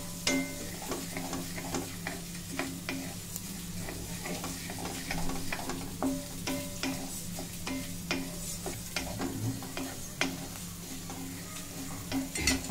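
Coriander seeds dry-roasting in a pan for sambhar powder, a soft steady sizzle with frequent scraping and clinking of a spatula stirring against the metal, close and continuous with no talk.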